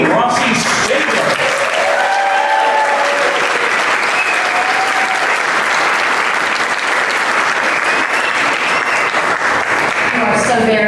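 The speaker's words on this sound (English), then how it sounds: "please give a round of applause for your festival director" A gala audience applauds continuously, a dense, loud wash of clapping that fills the whole stretch, with some faint voices and cheers mixed in.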